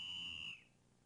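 A referee's whistle at an ice hockey game in a cartoon gives one short, shrill blast that cuts off after about half a second.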